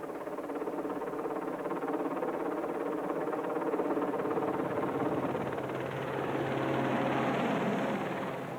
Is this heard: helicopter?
yes